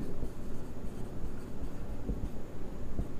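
Pen writing out chemical names on paper or a board during a chemistry lesson, a steady close scratching with small taps, alone for a few seconds.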